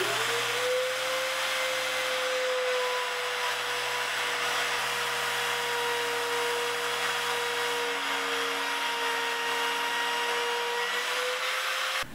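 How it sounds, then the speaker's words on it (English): A small handheld router cuts a hinge recess into a wooden door, a loud steady motor whine with a continuous grinding hiss running the whole time, its pitch easing slightly partway through and dropping away at the very end. "I'm using this small handheld router to go through here."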